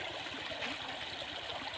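A village stream flows steadily, its water mixed with some drain runoff. The rush and trickle are close, constant and fairly soft, with no voices.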